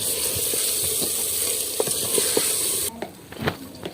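Tomato, onion and green chili tadka sizzling steadily in a pan, a loud broadband hiss with light stirring clicks, then quieter frying and scattered pops after the hiss drops near the end.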